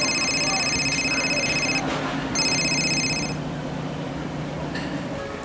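A telephone rings with a bright electronic ringtone in a comedy episode, the tone repeating in short bursts with a brief gap, over a low background hum.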